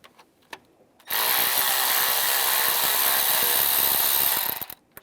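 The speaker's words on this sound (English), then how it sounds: "Take these 4 bolts out, use a T30 socket." A power tool whirs steadily for about three and a half seconds, removing intake bolts with a T30 socket on a 3.6L V6 engine in a 2011–2018 Ram 1500, with faint clicks before and after.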